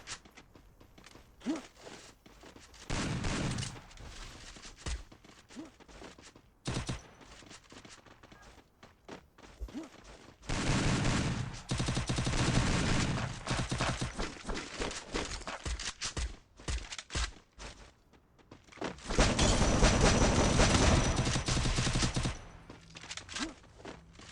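Gunfire in the Free Fire video game comes in several loud, sustained bursts of rapid shots, separated by quieter stretches of footsteps and movement, with no speech.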